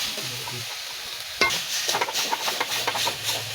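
Spice mix for lote (Bombay duck) fish bharta being stirred in a pan, with a soft sizzle at first, then a sharp scrape and a run of quick scraping strokes over continuous frying hiss.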